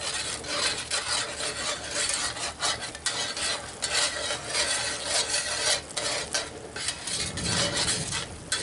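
Steady spoon-stirring of milk gravy thickened with cornstarch in a cast iron pan, with continuous scraping strokes and a faint simmering sizzle, close and alone without talk.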